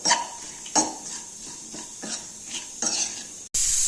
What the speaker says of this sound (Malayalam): കുറച്ച് കായപ്പൊടി ഇടാം നന്നായി ഇളക്കുക